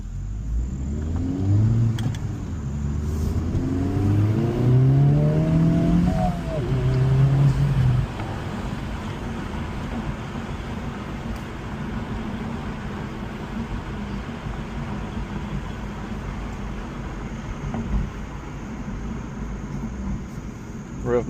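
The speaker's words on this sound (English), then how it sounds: "Rev match downshifting." A Honda Civic Type R FL5 engine rev-matching on downshifts, with quick rising and falling revs in the first seconds giving way to a steady low cabin drone of road rumble and engine, heard from inside the car.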